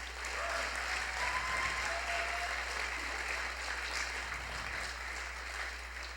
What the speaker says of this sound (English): Please give ourselves a round of applause.